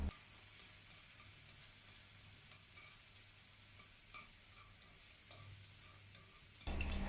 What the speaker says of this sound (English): Saute the asparagus for a minute. Add a tablespoon of XO sauce and mix with the asparagus.